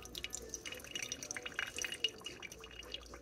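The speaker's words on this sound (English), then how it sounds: "hold your strainer and coffee and the filter over your cup, and you just pour it in" Hot water seeps through coffee grounds in a paper filter and strainer held over a cup, giving soft, faint, irregular drips and trickles close by.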